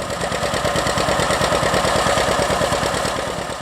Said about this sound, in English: Number 2, the John Deere Model A.